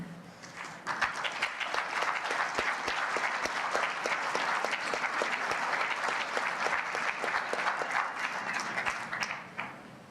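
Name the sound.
audience applause at a keynote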